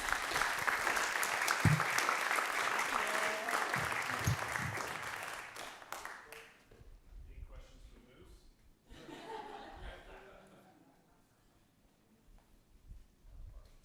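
An audience at an Ames Animal Shelter talk breaks into applause with some chuckles and laughter; the clapping is strong for about six seconds, then thins out as scattered voices and murmurs follow.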